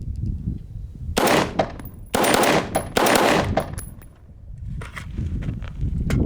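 Short-barrel SCAR rifle firing outdoors in loud, sharp bursts of rapid shots, several clusters separated by brief pauses, close and dominant.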